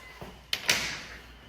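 A door is locked with a few sharp clicks and a heavier knock of the latch and handle, close and brief, against quiet room tone.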